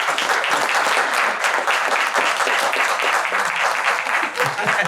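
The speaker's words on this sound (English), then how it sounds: "Please clap your hands for Dr." An audience claps for a speaker at a library panel talk, with dense, steady applause filling the whole stretch at moderate volume and no voices over it.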